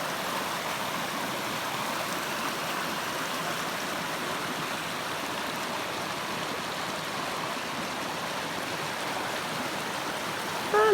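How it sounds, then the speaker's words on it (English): A small creek in the Temagami wilderness of Canada flows steadily, a constant broadband rush and babble of water close by with no voices. "I love little creeks."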